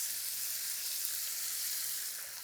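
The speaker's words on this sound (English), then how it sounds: "I don't want to overcrowd the pan because we want a nice sizzle" Steady, continuous sizzling of beef frying in a hot pan, a bright crackling hiss that holds evenly throughout with no talking.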